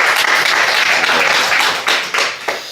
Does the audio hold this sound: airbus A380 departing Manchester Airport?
no